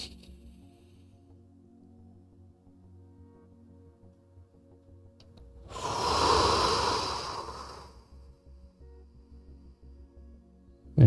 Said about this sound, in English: take a couple of those larger deep breaths where there's a pause at the in, at the top, at the out,